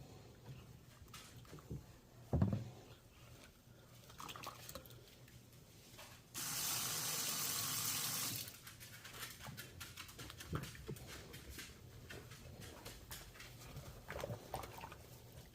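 Water runs from a tap in a steady hiss for about two seconds while a vintage 1985 or 1990 My Buddy doll's hair is wetted, set among quiet handling noises and small knocks.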